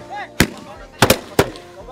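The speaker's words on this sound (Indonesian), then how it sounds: "kekuatan dentuman meriam ketika disulut api" Several deep booming blasts from a bamboo cannon ring out, one followed by a quick double boom and another shortly after, loud and close over faint background voices.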